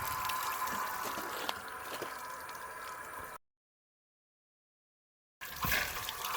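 Water sprays and hisses steadily from holes in the corroded pump of a Troy-Bilt pressure washer with a GCV 160 engine. The rush is continuous, cuts out briefly to silence, then returns.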